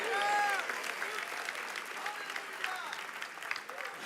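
A church congregation bursts into sustained applause, a dense wash of many hands clapping together with a few voices rising through it, steady and moderately loud throughout.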